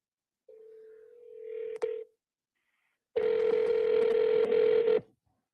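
On a phone call to a think tank's general inquiries line, a steady tone is cut by a dialing click, then after a pause a loud, buzzy ring tone holds for about two seconds.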